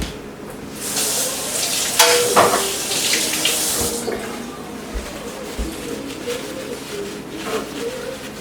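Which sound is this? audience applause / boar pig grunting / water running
water running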